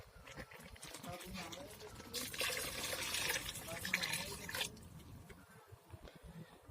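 Water is poured into a pot of cooking dal lentils, a brief rushing splash lasting a couple of seconds amid faint kitchen noise and quiet background voices.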